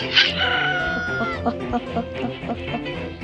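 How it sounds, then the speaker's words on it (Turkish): A rooster crows loudly and close at the start, followed by clucking and scattered voices talking over background noise. "Horoz."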